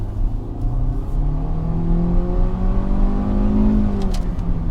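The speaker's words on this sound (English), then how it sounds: "And onto the throttle straight away." A Hyundai Creta car accelerates hard under full throttle, its engine note climbing steadily in pitch as revs build, loud and close from inside the cabin with no talk.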